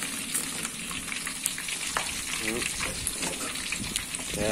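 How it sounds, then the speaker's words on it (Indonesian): Fish frying in hot oil in a home kitchen, a continuous close sizzle and crackle with scattered pops and a brief stir of the pan. "Goreng dulu ikannya."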